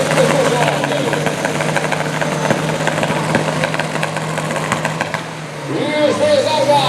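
Two turbocharged VW Gol cars launch together at a drag race: a sustained engine roar with a rising surge near the end, heard under an announcer's talk.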